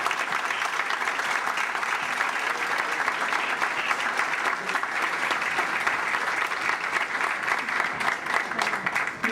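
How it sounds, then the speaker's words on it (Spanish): A crowd in Alfafar applauds musicians and jota dancers from La Mancha after their performance, with continuous even clapping from many hands lasting over nine seconds. "Un aplauso."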